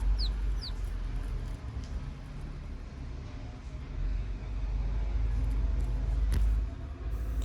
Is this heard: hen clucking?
yes